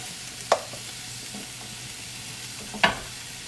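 Cranberry sauce bubbles and sizzles softly in a pan under a low, steady hiss, and two distinct spoon scrapes cut through as it is stirred.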